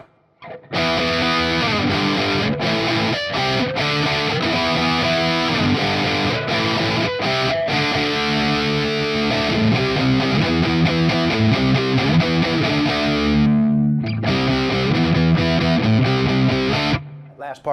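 Ibanez S770 electric guitar on the bridge pickup through a Tube Screamer overdrive pedal with light reverb, playing a loud, continuous distorted riff with rhythmic chugging and short stops, ending in a sustained chord.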